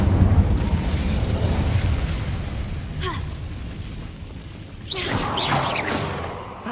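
Incendio fire spell cast in the Hogwarts Legacy video game, a deep rumbling blast that fades, then a brief whoosh and a second burst of crackling, fiery noise toward the end, loud and close.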